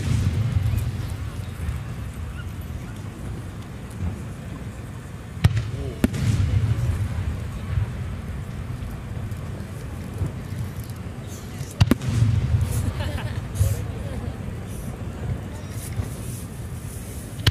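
Komatsu Enka Kogyo fires multi-core shells at the 2022 Yatsushiro fireworks display. Distant booms thud at intervals, followed by steady crackling and rumbling, and an announcer's voice runs underneath.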